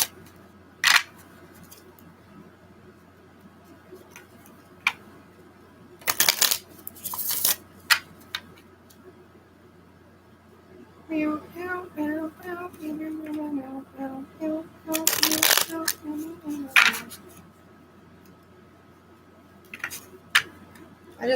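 Tarot cards being shuffled by hand, several bursts of crisp riffling and slapping separated by quiet pauses, close and clear.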